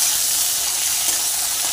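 Vegetables, including stalks, potato and eggplant, fry with black cumin in hot oil, giving a steady, close, even sizzle that holds without pause for the whole short stretch, with no voices.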